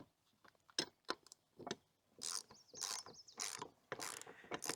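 Nuts are spun and ratcheted onto bolts while a steel Texas Star shooting target is assembled, giving bursts of metallic clicking and ratcheting with short pauses between them, close and fairly loud.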